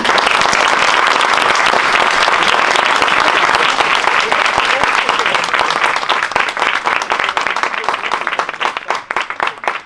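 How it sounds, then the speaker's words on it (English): A university audience at Princeton bursts into sustained, dense applause that fills the room loudly and evenly for about ten seconds, thinning slightly toward the end. "first a round of applause"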